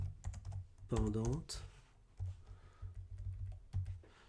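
Fast typing on a new ergonomic computer keyboard, a steady patter of close key clicks running throughout while someone speaks briefly over it.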